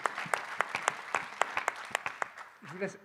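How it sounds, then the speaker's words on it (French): Audience at a campus conference breaks into applause, a steady patter of many hands clapping at moderate distance for a few seconds, with a voice speaking briefly near the end. "on applaudit Thierry, s'il vous plaît"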